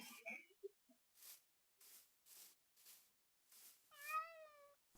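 A cat in a Minecraft-style video game meows once, a clear rising-falling tone near the end, after several short bursts of hissy noise and a brief blip at the start, quiet overall.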